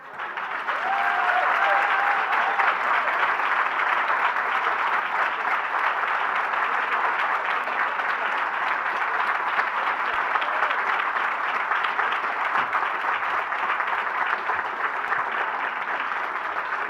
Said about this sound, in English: Keep the applause going while he goes to his seat.